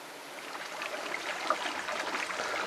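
Swift, cool water of the Virgin River in Zion National Park rushes in a soft, even hiss of flowing current, fairly faint and steady throughout, with no voices.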